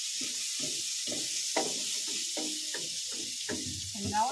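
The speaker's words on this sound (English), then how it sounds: "and put this garlic and onion. There we go. Oh, it smells good." Garlic and onion fry in a pan with a steady soft sizzle and hiss running throughout. A person talks over the cooking.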